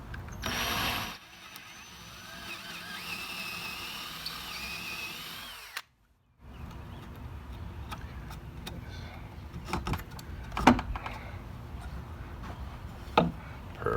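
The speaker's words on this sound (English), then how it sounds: "so we're going to come in right there and drill that puppy" A power drill bores a hole for a childproof gate latch, whirring steadily for several seconds, cutting out briefly, then running again with clicks and knocks as the bit works through, close and fairly loud.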